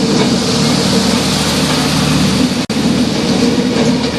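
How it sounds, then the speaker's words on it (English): The Yaldevi passenger train runs along the newly renovated Maho–Anuradhapura section of Sri Lanka's Northern Railway line, giving a loud, continuous rumble of wheels and carriages rolling by up close, with no talking over it. "is the first time we are operating the train following the renovations of the Mahava Anuradhapura section of the Northern Railway line."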